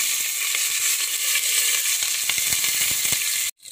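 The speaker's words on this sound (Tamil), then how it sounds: "எண்ணெய் காய்ஞ்ச உடனே கடுகு, உளுத்தம்பருப்பு, சீரகம், நாலு வெந்தயங்கள்லாம் எண்ணெயில் போட்டாச்சு" Mustard seeds, urad dal, cumin and fenugreek fry in hot oil in a pressure cooker, giving a loud, steady close sizzle with scattered crackling pops that cuts off abruptly just before the end.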